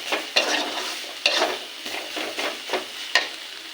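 A spatula stirs fried mashed greens in a pan, making a rhythmic series of scraping, rustling strokes with a soft sizzle underneath and no voices.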